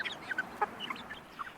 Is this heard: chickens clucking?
yes